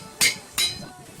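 Two sharp, bright clinking hits from a hammer striking blocks during strip mining in modded Minecraft, spaced about a third of a second apart, close and fairly loud over a faint background.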